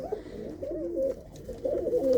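Small hen pigeons coo close by in a short, continuous series of low, warbling calls that swell louder toward the end.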